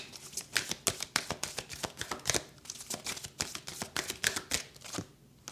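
Animal oracle cards being shuffled by hand, a quick run of crisp riffling flutters and soft slaps repeating close up, with no voices.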